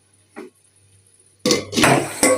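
A lid set back onto a pan of cooking prawn masala in a home kitchen, one faint soft tap followed by a louder metallic clatter and clinks as it settles.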